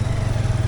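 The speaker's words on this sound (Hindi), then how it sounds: "तो इधर बाइक खड़ा करते हैं" A motorcycle engine idles close by as the bike is parked, a loud low rhythmic putter with rapid even pulses that cuts off abruptly at the end.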